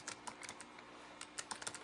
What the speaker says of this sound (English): Hit the enter key and type in